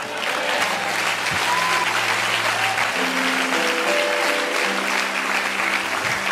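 A church congregation claps together in sustained, dense applause that fills the whole stretch at an even level, with a held musical tone running beneath it.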